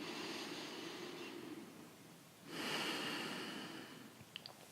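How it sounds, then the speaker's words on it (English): Slow, deep breathing during a beginners' pulsing breath meditation, a long airy inhale or exhale swelling, easing off, then rising again, close and steady with no talking. "Long, slow, deep breaths."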